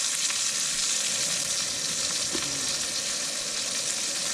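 Burgers fry in a pan at a forest campsite, giving a steady close sizzle and crackle that carries on unbroken throughout.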